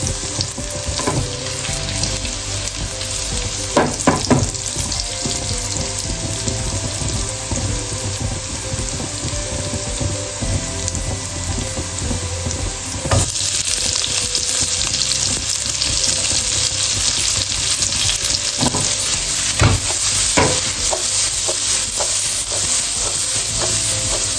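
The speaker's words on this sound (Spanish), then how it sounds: "sofreímos bien la cebolla." Garlic and onion frying in a pan, a steady loud sizzle running the whole time with occasional sharp clinks of stirring, and a brighter, louder patch partway through.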